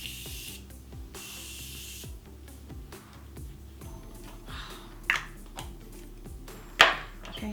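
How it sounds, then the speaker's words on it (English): Two short, breathy sprays of Morphe setting spray mist onto a face, hissing out a couple of seconds apart, close and crisp, over faint background music. "first I'm gonna spray my face. Of course, I'm gonna spray with my Morphe spray"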